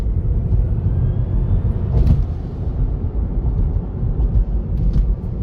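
Tesla Model 3 electric car accelerating, a loud, low rumbling road and motor roar heard from inside the cabin, steady throughout with a faint thump partway.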